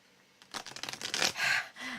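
Tarot cards are shuffled by hand, a quick run of soft riffling flicks that builds to a denser, louder burst of papery rustle before ending with a brief low sound.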